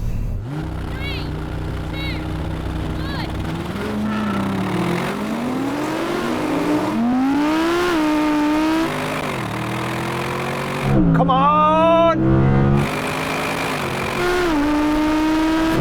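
A powerful sports car engine, in an Audi RS6 GT versus R8 GT race, roars from standstill and climbs through its revs, pitch rising in stages with gear changes, loud and close, with a voice talking over it.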